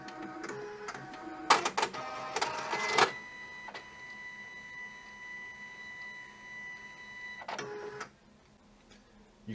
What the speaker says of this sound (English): Power the printer back on.